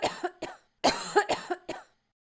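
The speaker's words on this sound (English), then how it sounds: "I can't stop coughing" A person with a cold coughs in a quick series of five harsh, close bursts with brief pauses between them, alone with no talk.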